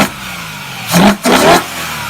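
The S65B40 V8 of a BMW E92 M3 revs sharply twice in quick succession, with each blip rising and falling. The second blip climbs higher, and a quieter idle sits between and after them.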